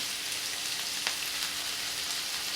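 Asafoetida, onion and cabbage frying in hot oil for a mixed-vegetable sweet corn dish, giving a steady, soft, broadband sizzle with no voices.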